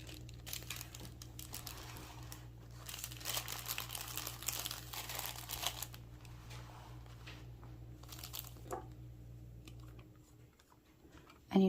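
Thin onion skin paper crinkles and rustles as it is handled, close and fairly quiet, in bursts of crackling over a steady low background hum, with no talking.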